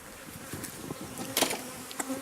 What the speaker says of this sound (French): Les abeilles, c'est pas agressif.